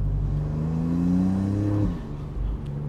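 A Maserati MC20 Cielo turbo engine with the folding hardtop down, revving up in a rising whir before easing off, loud and close with steady wind and road noise and no talking.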